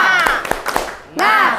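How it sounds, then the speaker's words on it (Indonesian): A classroom of students giving a spirit clap, a few sharp, evenly spaced claps mixed with lively voices chanting along, loud and close. "Beri tepuk semangat."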